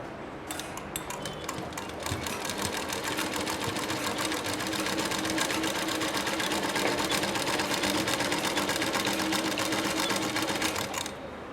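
Sewing machine stitching a pillow cover with a half-inch seam, running as a steady, continuous close mechanical whir with rapid needle ticking for most of the span, starting and stopping near the ends.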